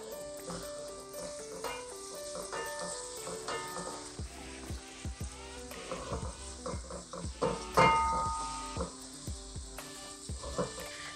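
Cow ghee, about two spoonfuls, goes into a hot pan already holding oil for meal maker biryani, giving a steady sizzle and frying crackle with spoon stirring and pan clatter throughout, louder bursts midway.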